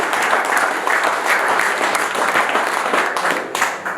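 An audience at a pole fishing masters event applauds an angler during the prize standings, a crowd's clapping that is fairly close and steady, with individual claps popping out of the dense patter across four seconds.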